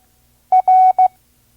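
A Morse code letter R, dot dash dot, sounded as a steady pure tone in three clean pulses, a short beep, a longer one and another short one, loud and alone against silence.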